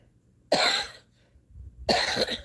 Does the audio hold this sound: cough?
yes